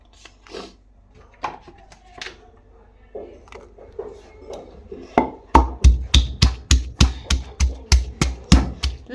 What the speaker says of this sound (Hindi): ये लहसुन को पीसेंगे।